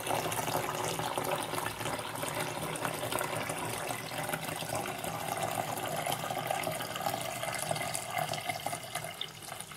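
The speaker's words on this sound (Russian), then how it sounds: "И после этого заливаю все холодной водой." Cold bottled water poured over salo to make a brine, a continuous, close splashing and gurgling stream of liquid running steadily throughout without pause.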